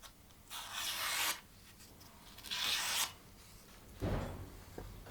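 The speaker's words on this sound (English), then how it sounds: "Finally, I use a piece of leather with polishing compound to strop the edge" An axe edge is stropped on leather coated with polishing compound, giving three separate soft rubbing strokes, each about a second long, with quiet pauses between them. No one speaks.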